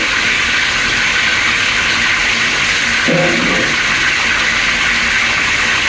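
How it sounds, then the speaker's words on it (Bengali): Cardamom, dried chili, bay leaf and cinnamon frying in hot oil, a loud, steady, dense hiss of sizzling that fills the whole stretch without letup. "এলাচ শুকনা মরিচ তেজপাতা দারুচিনি ওইগুলো ফুললি ফ্রাই করব আমরা এই যে দেখেন সুন্দরভাবে এখন ফ্রাই করা হচ্ছে"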